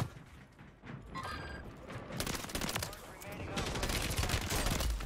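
FAMAS burst fire in the Warzone video game: repeated short bursts of gunfire at close range, loud and sustained over several seconds amid other game sounds.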